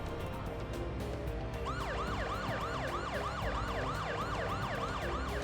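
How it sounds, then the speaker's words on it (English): A wailing emergency siren sweeps up and down in a fast repeating cycle over steady engine and road rumble. "he's just gonna turn on the siren and make wee-woo noises the whole rest of the way"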